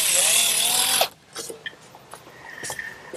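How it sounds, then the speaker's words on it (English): Power drill whirring steadily for about a second while pre-drilling pilot holes in wood for soft brass hinge screws on a Shaker wall clock, then stopping abruptly, leaving faint workshop clicks and handling noises. "I'm taking the precaution of pre-drilling the holes"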